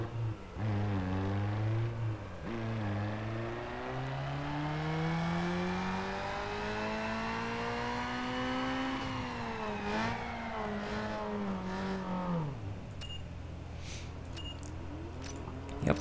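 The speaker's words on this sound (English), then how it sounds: "All the way to acceleration. And a dyno run." Tuned car in Need for Speed Underground 2 on a dyno run: the engine climbs steadily through a long rising rev with brief gear-like dips, holds near the top, then drops off to idle, with faint clicks at the end.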